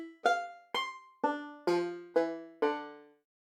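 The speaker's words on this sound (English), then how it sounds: "There's a banjo here, and it sounds like this." A sampled banjo from the East-West RA plucked instrument package, six bright plucked notes in an even, moderately paced sequence, each twangy attack decaying quickly, heard alone and clean.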